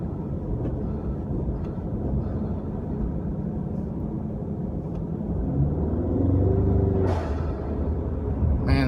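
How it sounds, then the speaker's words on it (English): Turbocharged EcoBoost Mustang running with a blow-off valve, a steady low engine rumble that builds before a short airy burst of venting near the end, close by and loud. "the SB valve's got kind of a unique sound to it"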